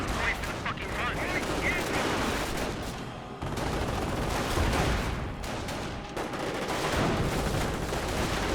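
Battle gunfire in Company of Heroes, with an M180 gun and infantry squads firing, making a constant dense crackle of shots and thumps under a loud wash of combat noise.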